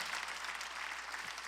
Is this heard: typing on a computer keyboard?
no